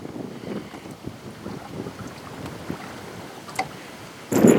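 Steady wind rumbles and buffets against the microphone outdoors on an Alaskan lake, with a sudden louder gust at the end.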